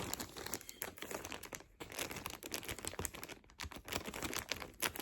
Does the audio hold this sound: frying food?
no